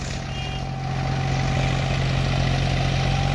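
A tractor engine hauling an 11-ton cultivator runs with a steady, heavy low-pitched rumble that grows slightly louder, close and continuous without speech.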